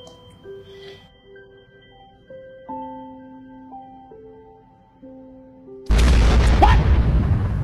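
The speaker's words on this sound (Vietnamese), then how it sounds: "bỏ cua vô lò vi sóng mà nó nổ hả em?" A crab exploding in a microwave oven: a sudden loud burst and rushing blast follows several seconds of quiet beeping tones, then the noisy roar continues to the end.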